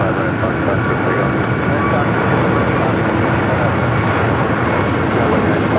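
Airbus A321neo jet roaring steadily on its takeoff run at Los Angeles airport, a loud, continuous engine rumble with a broad hiss that holds for several seconds, with faint talk mixed in.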